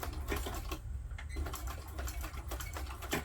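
A sewing machine runs steadily, top stitching the seam of a crossbody bag. The fast, continuous mechanical whir sounds close, with a few brief slowdowns and no talking.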